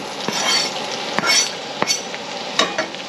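Onions dropped into hot bacon fat in a cast iron pan on low heat hiss and crackle steadily, with sharp metal utensil scrapes and clinks as they are stirred, close and loud with no talking.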